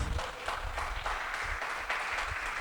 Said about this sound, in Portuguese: aplauda o nome dEle mais uma vez